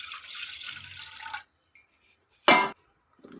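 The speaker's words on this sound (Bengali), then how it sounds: "প্রেসারে একটু জল দেব।" Water poured into a pressure cooker for a simple summer lunch of bottle gourd and potato, a steady splashing stream for over a second, then a pause and a brief sharp burst.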